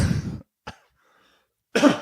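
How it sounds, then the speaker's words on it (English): A close, loud cough with a throaty edge, then a short sharp cough, silence, and another harsh cough. "you coughing?"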